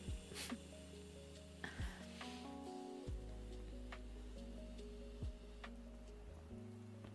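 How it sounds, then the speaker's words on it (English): Shirt fabric rubs and brushes against a close microphone in a quiet indoor setting, giving scattered soft scratchy rustles and a few sharper bursts over a steady low tonal hum, with no talking. "Yes, it will be shirt sounds."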